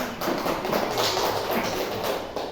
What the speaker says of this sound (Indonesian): Ya, kita beri aplaus dulu.